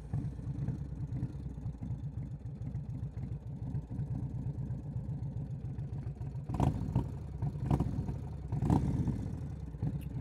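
An Indian Chieftain motorcycle with a 585 cam idles with a loping, lumpy rhythm close by, then gives a few sharp throttle blips that swell and fall back to idle.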